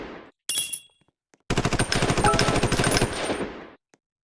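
Rapid bursts of automatic machine gun fire from a medium gunner in a combat video game: a short burst, a pause, then a longer rattling volley of dense shots, loud and close, with no talk.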